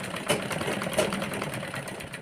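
A sewing machine stitching a zipper onto a girl's crop top, running in a steady close whirring hum with faint rhythmic clatter throughout, no voices.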